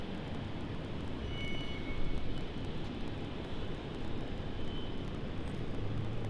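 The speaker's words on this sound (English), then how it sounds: "It is going to be JQ flight 427 arriving in from the Gold Coast." A Jetstar airliner arriving on the runway at Sydney Airport at night, a broad, steady roar of aircraft engines that swells slightly at times, heard from a distance.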